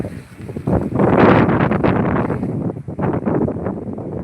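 Gusty wind on Kolli Hills buffets the microphone in rough, uneven bursts, rising and falling loudly with no one speaking.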